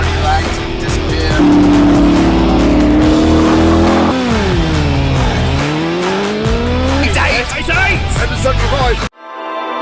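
A first-generation Suzuki Hayabusa fitted with a supercharger accelerating, its loud, close engine note holding steady, dipping, then climbing in a strong sweep before the sound cuts out suddenly near the end.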